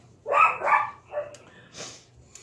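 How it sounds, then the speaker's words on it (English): A small chihuahua gives a quick run of high, yippy barks, four or five sharp bursts from a short distance in an otherwise quiet indoor room. "Yeah, because she has a tiny little yippy bark like Charlie."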